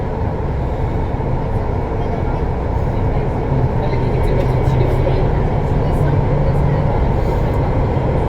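VAL 208 NG2 automated metro train riding on Line B in Toulouse: a loud, steady rumble and rolling roar of the carriage in motion, heard from inside and continuous across the clip.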